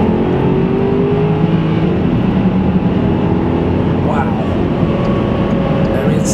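2006 Porsche Cayenne Turbo Techart accelerating under boost in second gear, a loud, steady engine roar heard from the cabin, with a voice talking over it.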